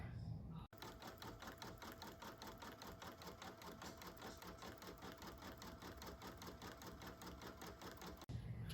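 An embroidery machine sews a red satin stitch with a fast, even run of rapid needle clicks for about seven and a half seconds, starting and stopping abruptly, close and fairly quiet.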